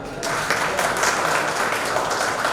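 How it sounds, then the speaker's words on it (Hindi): Loud, continuous applause from an audience at an event, a steady dense wash of clapping that starts abruptly and keeps going without a break. "उनके लिए जोरदार तालियां।"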